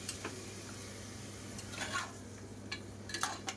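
A utensil scrapes and clinks against a pot as mutton is stirred and mixed, producing a few faint, brief clatters over a steady low hum.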